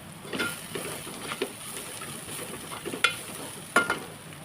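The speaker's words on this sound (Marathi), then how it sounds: "ते सर्व मसाले घालून व्यवस्थित तेलामध्ये परतून घ्यायचे" Red chilli powder, turmeric and coriander powder sauté in oil over low heat for a dry okra stir-fry. The soft, even sizzle runs throughout, broken by a few light scrapes and taps of stirring.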